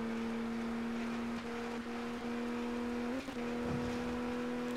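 Race car engine in the ToCA Race Driver 2 video game during a convertible tour race, a steady droning whine that holds a constant pitch, briefly dips around a gear change, then resumes, loud with no talk.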